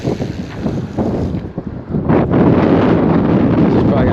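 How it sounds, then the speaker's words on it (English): Strong wind blows outdoors by an iceberg-dotted river on a fishing trip, buffeting the microphone in loud, continuous gusts that swell after a brief lull, with water splashing and a voice faintly mixed in. "The wind keeps switching up directions."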